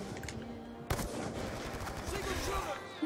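Rapid gunfire in a Call of Duty: Black Ops 2 team deathmatch, quiet and distant, with a sharp burst of shots under game chatter and background noise.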